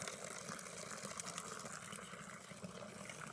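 Water pours into an overflowing water tank, making a steady gushing, splashing flow that is close and moderately loud throughout, with no speech.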